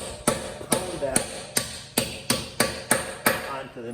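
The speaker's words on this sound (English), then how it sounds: "You have to get it on, you got to get a hammer and you got to pound that" Metal hammer blows pounding a 20 mm socket onto a lug nut on a Ford Fusion wheel: eight sharp, evenly spaced strikes ringing close and loud, about two per second, with no talking.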